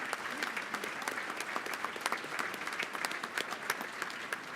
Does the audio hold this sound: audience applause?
yes